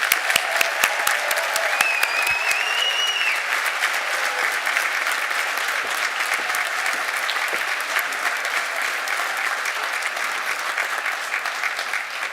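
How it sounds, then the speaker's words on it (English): A commencement crowd at Marywood University's 2021 ceremony gives loud, sustained applause that rolls on evenly for over twelve seconds, with a dense wash of many hands clapping at once. "Let's give them all a hand of applause."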